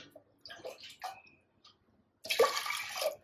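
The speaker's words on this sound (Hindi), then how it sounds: "इसके अंदर डाल दीजिए 2 कप पानी।" A few soft clinks and taps, then a near, steady rush of water being poured into a pressure cooker for about a second, onto washed lentils for dal.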